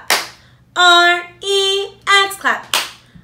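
Two crisp hand claps in a kids' T-Rex spelling rhythm, one at the start and one near the end, with sung letters in between.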